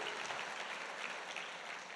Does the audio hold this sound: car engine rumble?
no